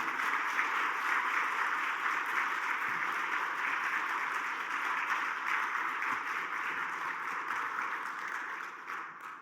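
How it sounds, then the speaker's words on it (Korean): A church congregation at a Sunday worship service gives sustained applause to welcome a missionary, a steady, dense roar of many hands clapping in a large room that continues evenly and fades slightly at the end. "큰 박수로 모시겠습니다."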